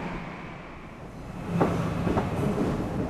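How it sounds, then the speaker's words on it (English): A train departs Grand Central Terminal, a low rumble of rolling rail cars that swells partway through with a couple of brief metallic clanks. "Despite all efforts, the train leaves late."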